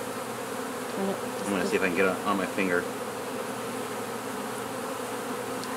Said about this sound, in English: There's so many bees.